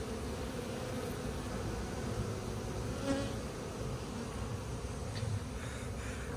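Honey bees drone steadily around their hives in a wet spring, a dense, continuous buzz of many insects up close with no talking.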